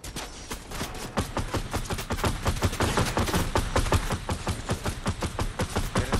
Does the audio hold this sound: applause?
no